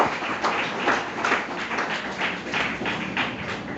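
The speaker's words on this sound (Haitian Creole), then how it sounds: "Applaudissez le Saint-Esprit de Dieu." A church congregation applauds during a French-language worship service, loud and close, the clapping falling into a loose rhythmic beat that keeps going steadily throughout.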